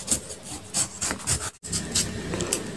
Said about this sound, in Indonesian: Kita kupas nih biasa ya kupasnya.